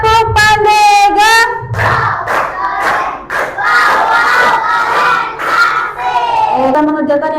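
An elementary class performs a rhythmic scout-style clapping chant, children shouting in unison with sharp group claps, loud and close in a classroom.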